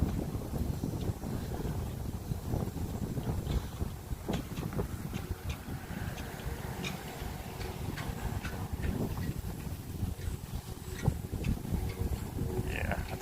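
Outdoors in Cape Coral, Florida, gusty wind buffets the microphone in a constant low rumble with irregular thumps and ticks, while a voice talks faintly underneath.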